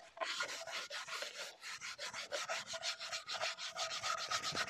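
A cloth rubs back and forth over a part on a Vauxhall Vivaro B van during a service, wiping off excess in a steady, close, scratchy rhythm with no talking.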